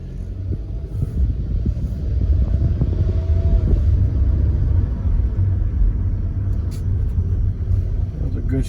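A 2013 Hyundai Accent pulls away on a test drive, a steady low engine and road rumble from inside the cabin with light rattles and occasional clicks, no one speaking.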